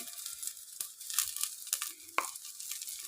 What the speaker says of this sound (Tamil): பெருங்காயத்தூள் கொஞ்சம் இந்த ஆயிலில் வதக்கிறப்பு ஆட் பண்ணிக்கலாம்